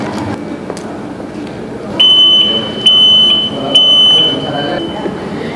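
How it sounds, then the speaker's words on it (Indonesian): A self-service book machine in a library sounds a shrill electronic alarm in several loud, steady beeping bursts, with a quieter stretch of room noise before it begins. "Bila buku tidak terpinjam secara mandiri dengan benar, maka alarm akan berbunyi"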